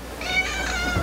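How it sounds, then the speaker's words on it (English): A cat in a kitchen meows for plain Greek yogurt, one drawn-out plaintive meow heard close by over a steady background hum, with no talking. "That's Milton, my cat, who loves plain Greek yogurt"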